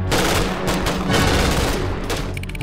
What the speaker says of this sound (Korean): 사격 개시!